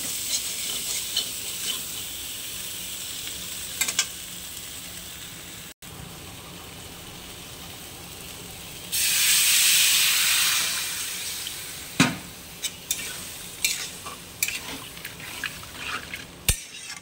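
Frying potato curry in a pan gets a splash of water, bursting into a loud, rushing hiss for a couple of seconds before settling back to a gentle sizzle with repeated clinks and scrapes of stirring.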